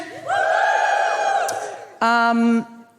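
A live audience at a podcast recording in Adelaide, Australia, cheers and whoops loudly in a sustained burst, then a second shorter, sharper roar of cheering follows after a brief dip.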